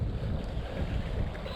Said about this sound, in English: It's a nasty upstream gusty wind.